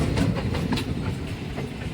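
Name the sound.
locomotive engine passing on railway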